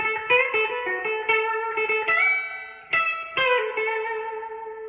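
A classic blues riff on electric guitar: quick bursts of picked notes alternate with longer sustained, bent tones, clean and upfront with light effects and no talking.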